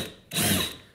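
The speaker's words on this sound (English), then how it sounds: "I'm not pushing very hard, because I don't wanna drill it too deep" A power drill bores a shallow hole into wood for a ladder shelf, a single short, loud whirring burst lasting about half a second before cutting off.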